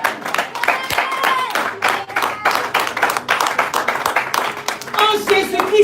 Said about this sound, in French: Tu vas acclamer, acclame Dieu.